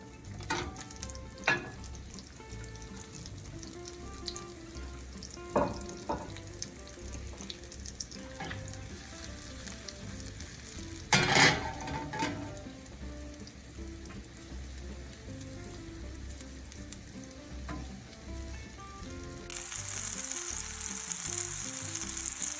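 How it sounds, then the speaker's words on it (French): Apple pieces frying in nearly melted butter in a pan for a Normandy chicken dish, giving a steady soft sizzle with occasional stirring clinks and scrapes and a slightly louder, brighter hiss near the end. "une fois que le beurre est presque fondu, je vais rajouter mes pommes."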